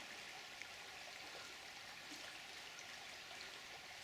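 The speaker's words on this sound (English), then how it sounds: "just have a quick look at the River Yore at Kilburn Bridge on my way home" River Yore flowing beneath Kilburn Bridge, a faint steady wash of running water with a soft hiss and no distinct splashes, continuous and distant, with no voices.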